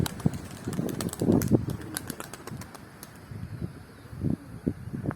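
Pigeons inside a crowded coop of about 150 birds: soft low cooing and murmuring with bursts of wing flapping and scuffling, moderately close, rising and falling in loose clusters without speech.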